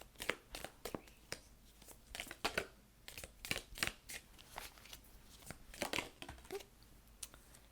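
Tea leaf oracle cards are shuffled and drawn from a deck close by, giving quiet, irregular papery flicks and riffles in quick bursts throughout, with no talking.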